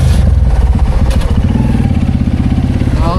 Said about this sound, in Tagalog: Masama yung stock yung motor.